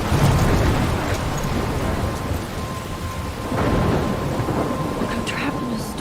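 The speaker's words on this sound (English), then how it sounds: "I'm trapped in a storm?" A thunderstorm in the video game Life Is Strange brings steady heavy rain with rolling thunder rumbling through, loud and continuous, with a faint voice at moments.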